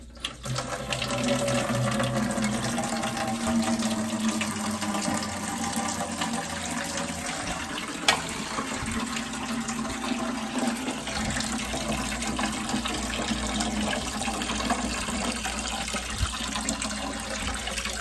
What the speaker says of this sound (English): Drain out some of this water.